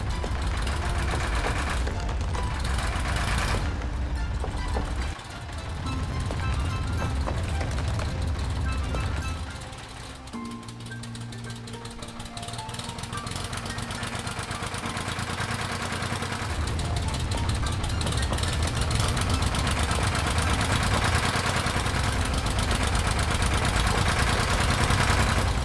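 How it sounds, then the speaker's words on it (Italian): A tractor engine runs continuously with a low, rumbling drone that dips briefly and then holds steady throughout. "Con il suo aiuto, il trattore può rivangare la terra."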